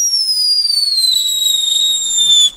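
A premium shoe box fireworks battery goes off outdoors with a loud, piercing whistle that slides slowly downward in pitch for a couple of seconds before cutting out abruptly.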